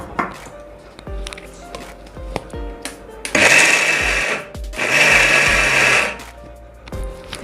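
An electric kitchen mixer grinds sesame seeds and peanuts for til ladoo in two loud, steady whirring bursts separated by a short gap, after some light clattering and knocking.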